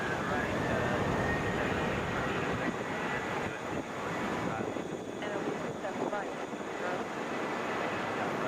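A Qatar Airways airliner at Atlanta International Airport produces a broad, roaring jet rumble that holds steady and loud across the whole stretch, with faint voices in the background.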